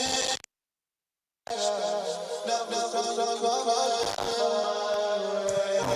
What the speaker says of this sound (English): 1/8 delay sounds like this.